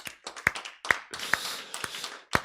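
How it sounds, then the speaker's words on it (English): Small livestream audience clapping after a Sunday service song, a few sharp, distinct hand claps at irregular intervals, close and fairly quiet, sounding like only a handful of people. "Let's give her another round of applause."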